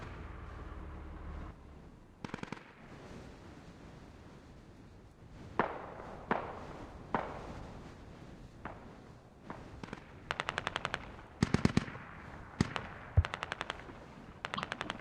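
Repeated distant mortar and gunfire blasts in the tactical shooter game Squad, sharp cracks and rapid bursts scattered over fifteen seconds with quieter gaps between them.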